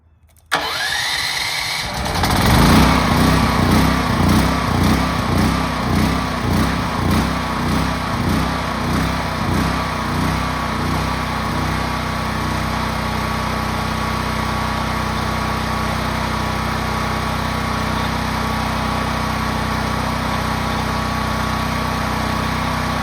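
A Westinghouse 12,500W portable generator cranks over briefly, catches with a slightly rough, pulsing start, then settles into a loud, steady, close engine hum and drone that runs alone for the rest of the clip.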